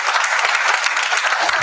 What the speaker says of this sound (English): big round of applause for the Jatin bhai